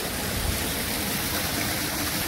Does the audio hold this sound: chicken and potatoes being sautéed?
no